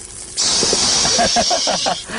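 A loud, sudden hiss of water hitting a hot wok, sizzling steadily with bubbling pops and a faint voice underneath.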